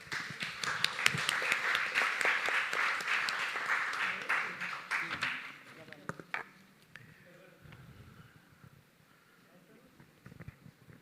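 An audience at a quiz event applauds for a participant, with loud, full clapping for about five seconds that then dies away into scattered claps and quieter room sound.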